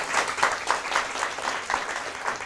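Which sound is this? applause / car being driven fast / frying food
applause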